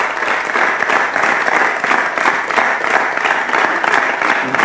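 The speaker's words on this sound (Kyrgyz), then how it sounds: "Дүркүрөгөн кол чабуулар менен мейманыбызды узатып койсок." A television talk-show studio audience in Kyrgyzstan claps for a departing guest, a steady, dense round of applause held at an even level throughout.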